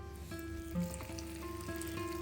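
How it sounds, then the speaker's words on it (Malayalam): Egg snacks frying in hot oil give a soft, steady sizzle and bubbling at moderate distance, with a faint tonal hum running underneath. "ഇനി ബാക്കി വരുന്ന സ്നാക്സും ഇതുപോലെ തന്നെ ഫ്രൈ ചെയ്തെടുക്കണം"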